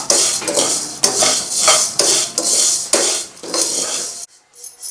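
Fried sago or vermicelli is scooped out of a ghee pan onto a plate, with a series of loud metallic scrapes and clinks of a spoon against the pan in an irregular rhythm, followed by near quiet.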